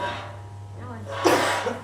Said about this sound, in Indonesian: Lagi batuk. Oh iya, batuk.